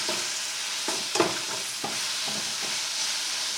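Fajita filling simmers and bubbles in a pan, a steady soft sizzle with a few faint scraping stirs, close and alone.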